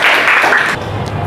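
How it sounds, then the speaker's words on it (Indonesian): Classroom applause from students in an Indonesian school lesson, a short burst of clapping that fades quickly into room noise. "Kasih tepuk tangan untuk Mahardika."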